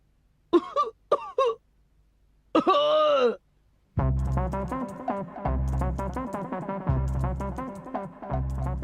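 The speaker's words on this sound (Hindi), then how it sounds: "देखो मेरी खांसी नहीं रुकती।" A cartoonish Doraemon character voice lets out a few short coughs and a strained groan, followed by a busy run of animated sound effects and music-like tones.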